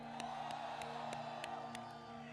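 An audience at a press conference with Joe Russo applauds and cheers the artists, a steady wash of claps and whoops with a few sharp rhythmic hits, moderately distant.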